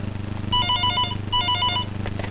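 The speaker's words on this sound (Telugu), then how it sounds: "ఉండు ఫోన్ వచ్చింది." Telephone ringing in a Telugu comedy film scene, two bursts of rapid electronic trilling bells separated by a short pause, clear and close over a low background hum.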